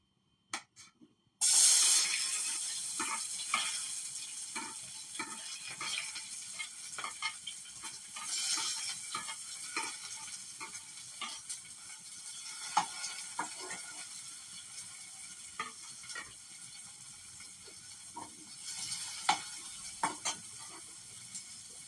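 Onion, tomato, chili and garlic drop into hot oil with a sudden loud sizzle, then fry with a steady crackling hiss broken by repeated scraping stirs.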